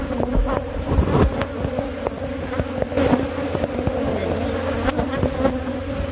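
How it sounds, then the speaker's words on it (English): A swarm of killer bees buzzes densely and loudly close around the listener, a constant droning hum mixed with the sharp passes of individual bees near the microphone. "these bees are focused on us right here because they are dripping venom on us literally"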